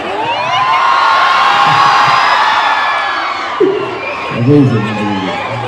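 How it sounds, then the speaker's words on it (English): A large crowd of students at a culture program in Khordha district roars and whistles continuously, loud and close, with a few individual shouts rising near the end. "This crowd is crazy, the energy is crazy."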